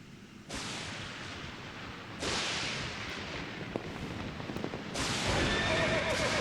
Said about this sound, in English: Ghost horse.